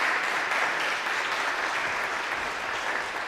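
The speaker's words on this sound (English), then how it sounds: "let's give Jack a round of applause before we sing our final hymn" A church congregation applauds its volunteer director of music before the final hymn, steady dense clapping at moderate distance throughout, with no voices over it.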